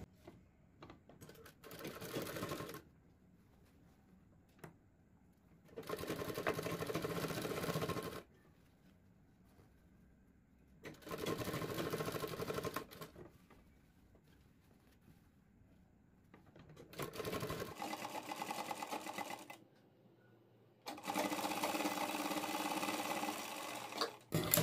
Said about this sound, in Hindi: अब यहाँ पे हम सिलाई लगाएंगे अपनी पाइपिंग वाली सिलाई।